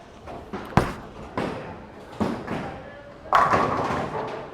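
Bowling ball thrown down the lane, a sharp thud at release followed by a few rolling bumps and a louder crash of pins near the end, with a voice briefly audible.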